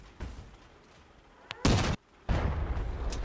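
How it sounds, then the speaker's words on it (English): Artillery cannon fire in the Crossout mobile vehicle combat game, a sharp blast followed by heavy booming bursts and a rumbling tail, loud and close with brief gaps between shots. "Artillery."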